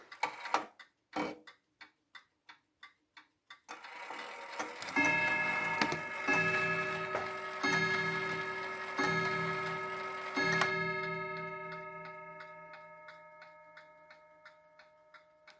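Ansonia antique mantel clock of unusual shape ticking steadily and close by, then its early German-style gong strikes several times, each tone ringing and slowly fading beneath the continuing tick.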